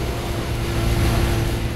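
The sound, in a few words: Toyota car engine racing in video game Need for Speed World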